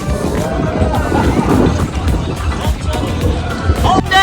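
A spinning boat ride on the water at Da Nang, Vietnam, brings steady wind buffeting and rushing water noise throughout, with excited voices and shouts from riders over it.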